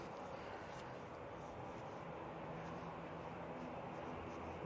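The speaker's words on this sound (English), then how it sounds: "I think we can hear a prop" A Loganair ATR 72 turboprop plane at Manchester Airport gives a steady, fairly distant droning rumble with broad noise that holds evenly throughout, heard alone without talk.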